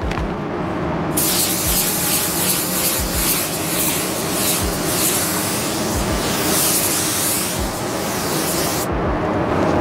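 A spray gun lays a wet bed of pearl white automotive basecoat, a loud steady hiss of atomized paint running nearly ten seconds, close up, with faint thuds underneath.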